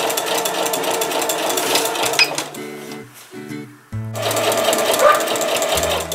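A sewing machine stitches a hexagon flower quilt, running in a steady fast mechanical clatter up close, slowing and pausing briefly midway with lower knocking stitches before speeding up again, no talking.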